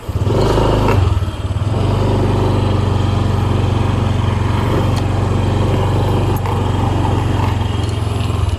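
A Honda Click 125i scooter engine runs close and loud, a steady, buzzing putter with one brief blip near the start before it settles into an even idle.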